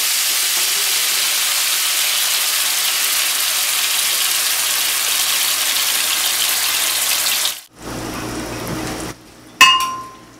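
Ground chili poured into a frying pan with a little oil sizzles loudly and steadily for several seconds, then stops abruptly, followed by a short clink and a brief burst of noise.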